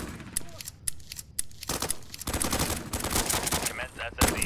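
Shotgun and other gunfire in the Roblox BRM5 video game, with sharp repeated cracks that build into dense, continuous firing, loud and close, with a voice speaking underneath.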